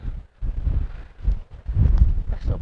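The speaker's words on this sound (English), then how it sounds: "It's just really windy." Strong wind buffets the microphone outdoors at a wild camp at Ros Castle in wind and rain, coming as loud, uneven low gusts with short lulls between them.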